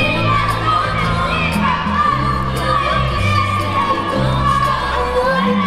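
A crowd at a children's ballroom dance competition cheers and shouts together, children's voices prominent, with a steady rhythmic rise and fall like chanting and music underneath.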